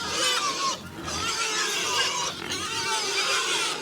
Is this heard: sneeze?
no